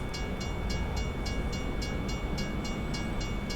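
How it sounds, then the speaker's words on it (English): A tram passes a truck in American Truck Simulator, giving a steady rolling rumble with a faint, regular clicking running through it and no voices over it. "And it's a tram, not even a train."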